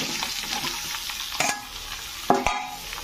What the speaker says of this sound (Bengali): তো লাউগুলো দিয়ে ভালো করে আমি এটাকে কষে নেবো একটু।